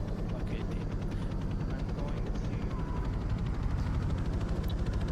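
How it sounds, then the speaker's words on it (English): A helicopter approaches in a first-person military multiplayer shooter, its rotor chop and engine drone building continuously under game noise, loud and close throughout. "And here comes the chopper."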